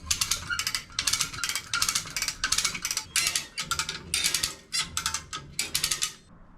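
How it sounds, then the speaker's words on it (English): A come-along ratchet is cranked to draw a chain taut while lowering the fuel tank of an F-body Camaro, giving about a dozen close, loud bursts of rapid metallic clicking in a steady rhythm with short pauses and no talking. "I just hooked it up to a set of come-alongs and then ran a chain back to that eyelet. I'll just ratchet the thing in"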